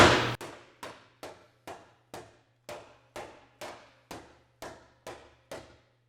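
A body slapper strikes an Austin-Healey 3000 steel body panel with no dolly or bag behind it, giving about a dozen evenly spaced, ringing metallic smacks at a steady rhythm, close and alone.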